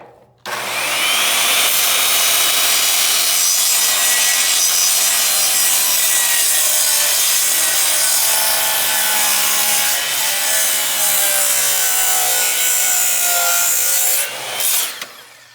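A circular saw makes a long, loud, continuous whine as it rips a bevel angle through a wooden board. The sound starts abruptly, holds steady for about fourteen seconds, then spins down, and no one speaks over it.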